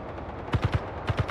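Turret gunfire in the video game Liberate Mars comes as two quick bursts of three sharp, punchy shots each, close and evenly spaced over a low background hum.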